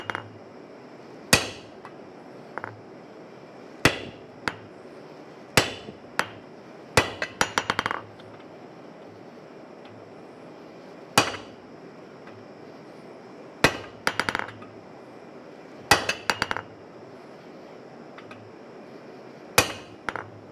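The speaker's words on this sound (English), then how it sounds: "I hate cutting rebar." Sharp, ringing hammer blows on steel rebar at a coal forge, struck singly and in quick bursts of several hits with quiet gaps between, close and loud over a low background hum.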